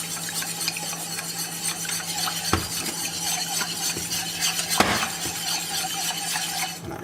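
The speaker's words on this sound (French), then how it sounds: "je vais rajouter le madère" Madeira wine poured into a sizzling sauce in a pan for beef tongue, then stirred: a steady, close hiss and crackle with scattered clinks of a utensil against the pan and no talk.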